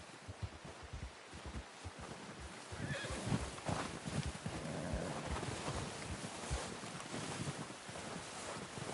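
A horse in the Red Dead Redemption II video game neighs and clops its hooves outdoors amid wind, the whinny rising briefly over a steady rustling bed of hoofbeats.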